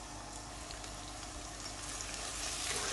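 Onions sizzling in heated oil in a pan for a potato and peas curry, a steady close crackling hiss that swells slightly toward the end, with no talking.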